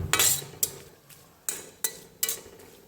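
Chivda made from puffed rice roasts in a pan while a metal spoon scrapes and clinks against it. The stirs come in sharp, close strokes about every half second, with a soft rustle between them.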